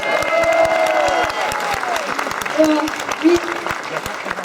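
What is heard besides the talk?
audience applause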